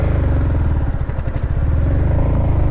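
A motorcycle engine labours and sputters at low revs while pulling away in third gear, nearly stalling, with a loud, close, uneven chugging pulse that dips midway then steadies.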